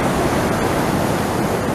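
Strong sea waves off Snapper Point, Kioloa, New South Wales, a loud, dense, continuous roar of surf and churning water with no voices.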